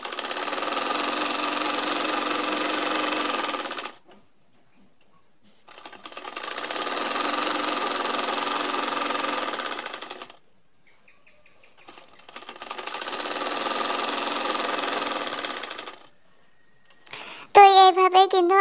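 Sewing machine stitching printed three-piece fabric runs in three long steady bursts of a few seconds each, separated by quiet pauses, with a short voice heard at the very end.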